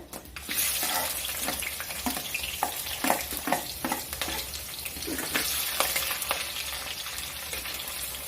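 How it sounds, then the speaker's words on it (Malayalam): Fenugreek seeds pop and spices fry in hot oil for a homestyle sardine chilli curry: sharp, irregular crackles over a continuous close sizzle, with no talking. "എന്താ ഉലുവയൊക്കെ പൊട്ടുന്നുണ്ട്"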